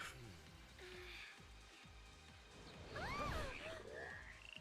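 A mud frog in Final Fantasy XIII croaks in a repeating run of low, rasping pulses, close and steady, with a brighter warbling call near the middle and faint game ambience behind.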